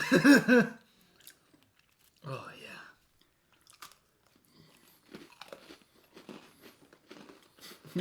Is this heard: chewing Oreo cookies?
yes